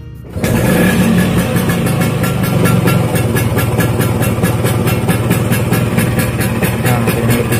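A restored Vespa scooter engine starts and settles into a loud, steady idle with a fast, even putter that continues close by for about seven seconds.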